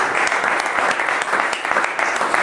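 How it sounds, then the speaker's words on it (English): An audience applauds two panelists after a talk on art and capitalism, steady dense clapping that holds at full volume throughout, with no voices breaking through. "let's give our two panelists a round of applause"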